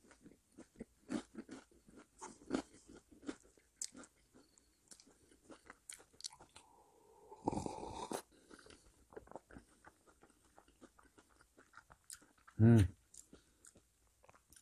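Bites and chewing of toast at a breakfast table, a series of soft, close crunches and mouth sounds spread across the clip, with one loud close bite near the end and speech-like sounds mixed in.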